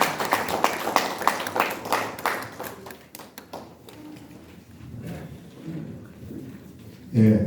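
Brief applause at a Korean political party launch ceremony, a few seconds of scattered clapping from the audience that quickly thins out into quiet room sound, followed by a voice starting to speak.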